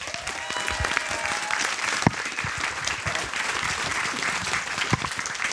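An indoor audience at a web-series conference applauds Davy Mourier with dense, steady clapping that holds for several seconds at even loudness, without talk.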